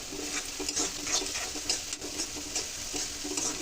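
Spices lightly frying in a pan for homemade pani puri, a soft steady sizzle with faint rhythmic stirring scrapes, close and fairly quiet, with no talking.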